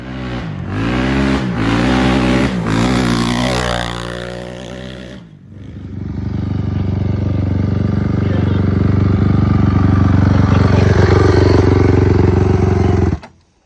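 A Honda CRF450R motocross bike fitted with big wheels revs hard on a track, rising and falling through several throttle blips before settling into a loud, sustained, buzzing roar that cuts off abruptly at the end.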